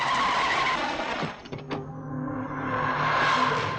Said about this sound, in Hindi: बिहारी, ए, गाड़ी रोक।